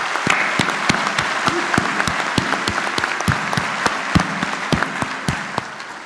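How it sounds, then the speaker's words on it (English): Graduates at a Mohawk College convocation for the School of Engineering Technology give themselves a round of applause, a sustained crowd clapping with sharp, regularly spaced claps standing out near and clear throughout. "Let's give yourselves a round of applause"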